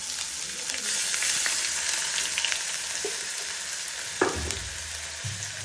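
Crushed ginger and garlic fry in a pan with a strong, steady sizzle, joined near the end by a brief stirring clatter. Nobody speaks.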